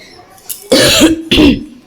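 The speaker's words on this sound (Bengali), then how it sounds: "আমার কাশিটা এখনও সমানে চলছে কমেনি" A woman coughs up close, two short harsh bursts after a faint throat sound, loud and dry with a brief gap between them.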